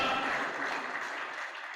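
Crowd applause at a political rally in Rose-Belle, Mauritius, steady and full throughout, easing slightly toward the end.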